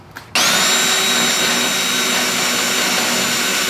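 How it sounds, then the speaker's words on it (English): A power drill boring holes into a steel Jeep Wrangler frame for base plate bolts runs as a loud, steady high-pitched whine that starts abruptly after a brief moment of quiet and holds close to the end. "So let's get these drilled, and that way we can insert the last 2 bolts."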